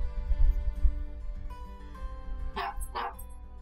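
Shih Tzu rescue dogs excitedly awaiting medicine give two quick sharp yips or barks close by near the end, after a stretch of low rumbling background noise.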